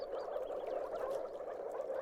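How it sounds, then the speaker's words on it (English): Moor frogs calling in a low moor, a continuous chorus of hollow glugging notes that carries steadily and evenly, mid-distance, with no voices. "an incessant glugging sound reverberates throughout some moors. It's the call of the moor frog."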